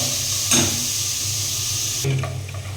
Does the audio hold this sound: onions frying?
yes